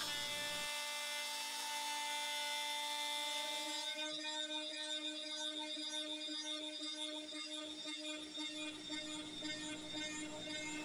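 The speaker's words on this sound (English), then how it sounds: "I could go back to the CNC and flatten the top." A CNC machine flattening the top of an end-grain inlay cutting board gives a high, steady tonal whine with a strong hum, joined by rougher cutting noise partway through and carrying on to the end.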